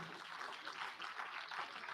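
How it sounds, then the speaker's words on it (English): An audience claps at a quiz prize-giving, a faint, steady patter of applause that sounds distant and fills the whole moment. "A big round of applause, please."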